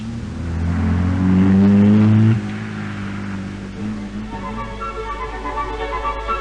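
A car on a timed climb of the Vivione Pass, its engine revving hard and rising in pitch, then cutting off sharply before resuming at a lower, steady drone.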